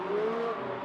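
A race car engine revs steadily in a racing video game set at the Singapore circuit, a loud sustained tone heard alone for under a second.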